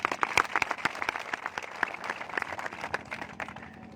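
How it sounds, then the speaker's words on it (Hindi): Applause from the crowd at a political rally in Rupangarh, a dense burst of clapping from many hands, moderately loud and steady for a few seconds without speech over it. "जोरदार तालियां।"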